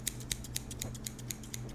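Scissors snip repeatedly in a steady rhythm, crisp metallic cuts close up with no talking.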